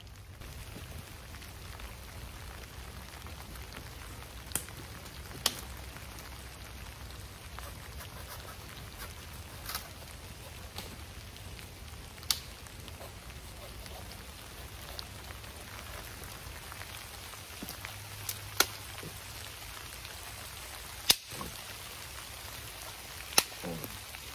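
Soft, steady patter of light rain on a tarp tent after hail, with occasional sharper drips and taps standing out, fairly quiet and continuous.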